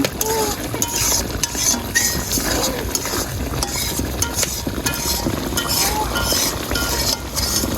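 A spoon stirs beef tongue bhuna in a cooking pot, making steady metallic clinks and scrapes against the pot, with a continuous sizzle underneath, close and fairly loud throughout.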